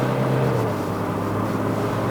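A 2023 Toyota Hilux GR Sport with the 2.8L diesel, heard from inside the well-insulated cabin on a mountain run, gives a steady low engine hum with a faint tonal drone and no talking.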